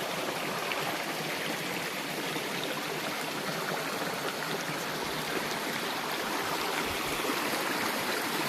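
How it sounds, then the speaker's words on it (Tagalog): Steady broadband rush of a river flowing nearby, loud and continuous for the whole stretch with no voices. "Medyo maingay tayo dahil nandito tayo ngayon sa ilog."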